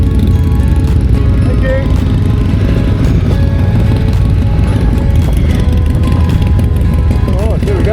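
A Ducati motorcycle engine drones loudly and steadily while riding on Tasmanian roads, with wind buffeting throughout and a brief spoken remark over it.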